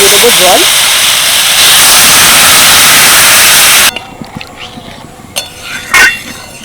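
A loud hiss of mung dal cooking with poppy seed paste in a pan, cutting off abruptly into quieter gentle stirring, with a few light clinks and scrapes of a utensil.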